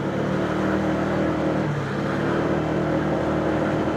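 A steady engine drone from a motorcycle ride on the road to Camp Mosa in Montalban holds at an even level, with constant road and wind rumble close to the rider.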